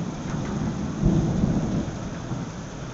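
Thunder rolling through a hail and rain storm in Austin, Texas, a deep rumble swelling about a second in over a steady wash of falling rain, fairly distant and moderate in loudness.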